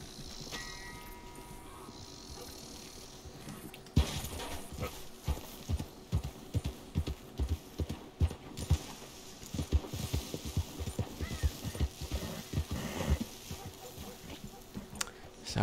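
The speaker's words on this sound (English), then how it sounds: "That's a mule." Mule hooves clip-clop steadily in Red Dead Redemption 2, a loud, close rhythmic run of hoof strikes that picks up sharply after a quieter opening, over faint background game ambience.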